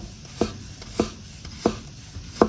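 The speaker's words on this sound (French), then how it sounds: "Là, je fais comme pour ciseler un oignon." A knife chops in slow, separate strokes as if mincing an onion, while garlic and parsley are prepared: four crisp, close thuds on the cutting board spaced roughly half a second apart, with quiet room noise between them.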